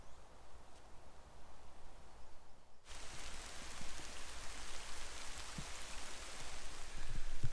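Rain falling in a UK larch plantation forest, a steady hiss of drops on foliage that starts soft and suddenly grows louder and denser, continuous with scattered nearer drips.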